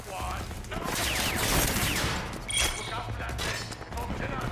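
Rapid bursts of gunfire empty a full magazine in the game Rage 2, rattling and crackling shots with impacts and debris, under a person's excited talk.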